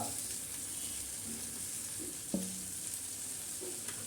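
Poha (flattened rice) frying in a pan makes a soft, steady sizzle, broken by a few light scraping and tapping sounds from stirring.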